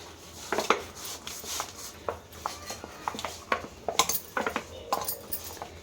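Banana is mashed and mixed into dough for Mangalore buns, with irregular soft squelching presses and light clinks of a utensil against the bowl, close and moderately loud.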